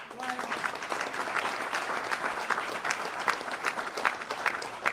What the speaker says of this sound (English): You ought to clap on this.